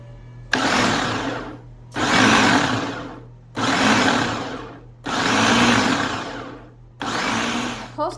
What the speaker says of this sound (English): we're going to go ahead and pulse this until it's all blended together